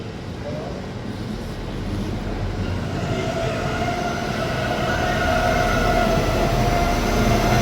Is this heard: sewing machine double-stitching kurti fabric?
no